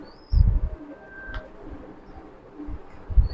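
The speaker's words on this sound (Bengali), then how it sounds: "এই বুদাপেস্ট কবুতরগুলো ওড়ার জন্য বিখ্যাত" Low, soft cooing of Budapest pigeons in a few short throaty bursts, close by, with faint chirps in the background.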